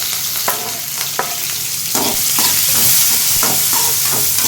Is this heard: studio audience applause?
no